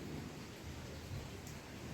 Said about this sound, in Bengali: এভাবে চলছে বৃষ্টি